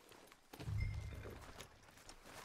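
Horse hooves clopping in Red Dead Redemption 2, a burst of low thudding steps rising after a quiet start, then steady muffled hoofbeats at moderate distance with no talk.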